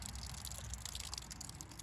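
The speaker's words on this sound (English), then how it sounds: "Pushing water out, pushing water out." Water gushing from a freshly opened valve in a summer cottage's plumbing during winterizing, a continuous steady rushing hiss, faint and unbroken throughout.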